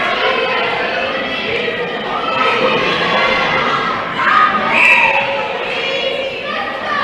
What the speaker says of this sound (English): A lot of easy screams from the crowds.